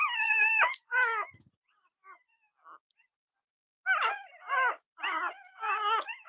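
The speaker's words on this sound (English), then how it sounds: "Such sad puppies." Several young puppies whimper and whine in high, wavering cries, first a cluster of whines, then a quiet pause with faint squeaks, then a run of repeated close whimpers.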